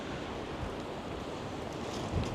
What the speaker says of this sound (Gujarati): જો પવન કેટલો બધી છે, પવન બહુ બધી છે.